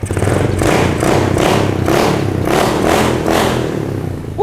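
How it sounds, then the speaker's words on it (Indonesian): A 135cc Jupiter MX motorcycle with a loud aftermarket exhaust is revved up repeatedly, each throttle blip swelling and falling in a loud, close rhythm of about two per second. "ketika digeber dia bakal suaranya lebih sedap lagi cuy"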